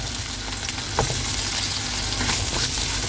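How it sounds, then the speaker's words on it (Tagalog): Potato and carrot chunks sauté in a pan, a dense steady sizzle with light stirring knocks, close and loud with no talking. "Unahin ko muna yung ating potato at saka carrots. Igigisa ko lang ng bahagya guys para hindi siya ma-overcook."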